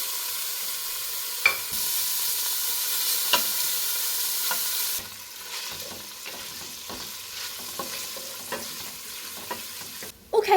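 Sliced bacon pieces fry in a pan, a close, bright sizzle that roars loud for the first few seconds and then settles into a quieter, steady crackle with scattered pops and a few light utensil clicks.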